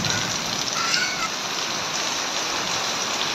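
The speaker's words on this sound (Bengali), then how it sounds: "বৃষ্টির শব্দটা সবাই একটু অনুভব করেন, দেখেন এত সুন্দর সাউন্ড বৃষ্টির" Heavy rain pours down steadily over a village, a dense, continuous hiss close by with no pauses and nobody talking.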